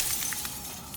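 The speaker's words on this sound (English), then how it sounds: "Oh, more shattering, huh?" Glass shattering in the video game Slay the Princess: a brief, bright burst of breaking and tinkling shards over a steady hiss, with no voices.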